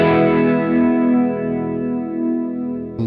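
An electric guitar runs through a chorus effect placed before an overdrive in the Bias FX 2 amp software. A single crunchy chord rings out with a shimmering, wavering sustain, then a fresh pick attack comes at the end.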